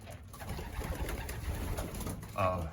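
Racing pigeons coo softly and steadily inside a pigeon loft, with faint rustling and a low background murmur.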